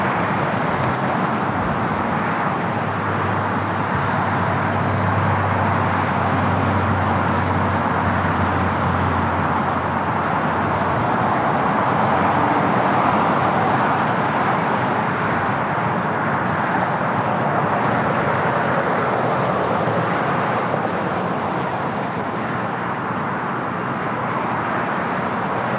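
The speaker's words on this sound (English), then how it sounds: "Singapore flight 1 to 2 coming in from Tokyo Narita on that 777" Singapore Airlines Boeing 777-300ER arriving at LAX from Tokyo Narita, heard as a continuous broad jet roar that stays loud and even for the whole stretch, mingled with nearby road traffic.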